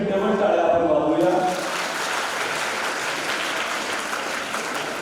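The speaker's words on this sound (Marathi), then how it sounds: "ज्यांना नंबर मिळाला नसेल त्यांच्यासाठी डबल टाळ्या आपण वाजवूया." Audience applause at a district council (zilla parishad) event, a dense, loud burst of clapping from the crowd that thins slightly after the first second and carries on steadily throughout.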